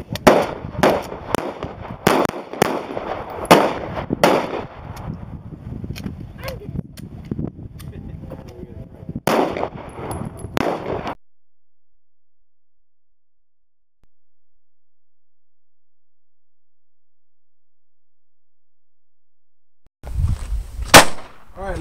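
Rapid gunfire during a law enforcement firearms training drill, a dense string of sharp, loud, close shots over echoing range noise, then a long silence before another burst of shots.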